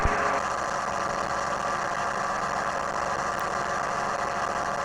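A Chinook ultralight aircraft's engine runs steadily in flight at about 4,500 RPM, a constant buzzing drone mixed with wind noise, fairly faint and unbroken, with no voices heard.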